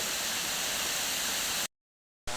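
The Tat Mieng waterfall rushes with a steady hiss of falling water that fills the scene, then cuts out abruptly to silence before returning briefly.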